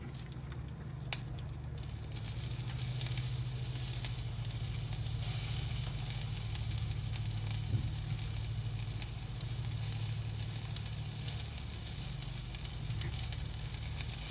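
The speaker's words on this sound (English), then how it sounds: "now I'm going to go ahead and I'm going to add some of my onions" Onions frying in a hot skillet for a homemade patty melt give a steady, close sizzle that holds at an even level from start to finish, with no one talking.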